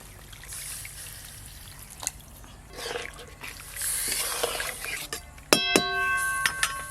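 Water trickles and splashes as it is poured into a pot of sour curry seasoned with salt and sugar over a clay stove, with a steady pouring hiss swelling and a few clanks toward the end.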